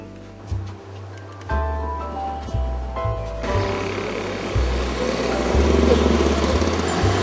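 Small motorbike engines buzz and rev nearby, their pitch shifting in steps as they pull away, with busy street noise rising behind.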